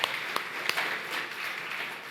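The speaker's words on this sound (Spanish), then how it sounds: "Levantamos un aplauso, Señor, ¿les parece?" Church congregation clapping after a prayer during a Spanish-language sermon service, a brief even wash of applause with a few distinct claps near the start, moderately loud in a reverberant room.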